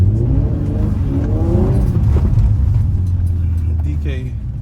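A Nissan G35 coupe with a VQ35DE engine drifts on snow, its engine droning and revving hard in a sustained, close roar with wavering pitch, while a voice talks over it.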